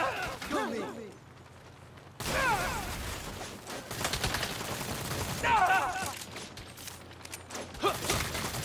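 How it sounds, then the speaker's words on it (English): Bursts of gunfire from the video game Saints Row rattle in clusters among the game's other sounds, with a voice talking over parts of the action. "Stop shooting at me!"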